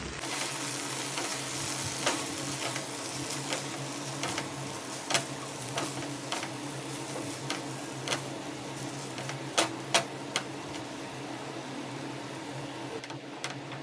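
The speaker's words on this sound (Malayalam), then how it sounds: "അതിലേക്ക് കട്ട് ചെയ്ത് വെച്ചിരിക്കുന്ന ചപ്പാത്തി നല്ല രീതിയിലൊന്ന് ഇളക്കിയെടുക്കാം." Cut chapathi pieces stir-fried in a pan, a soft, continuous sizzle broken by frequent light scrapes and taps of the spatula against the metal, close and fairly quiet.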